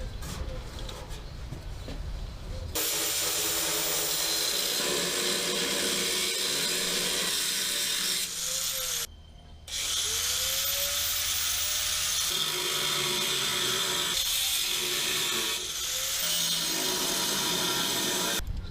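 A power tool cuts through the cross member of a car frame on a 1955 Chevy gasser wagon, running as a loud, close, continuous whine and grind with a short pause and then a restart, with no talk.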